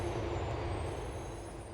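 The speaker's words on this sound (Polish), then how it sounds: "Na, no jedzie pociąg." A train passes in the video game Grand Theft Auto IV, a steady, loud rumbling roar with a broad hiss that holds for under two seconds with no voices.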